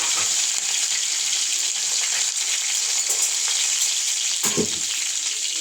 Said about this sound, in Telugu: కొంచెం నూనె ఎక్కువ వేసుకోవాలి. తర్వాత కరివేపాకు వేసుకోవాలి.